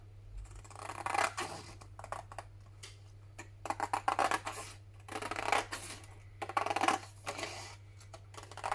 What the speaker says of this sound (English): Noisy scissors, aren't they?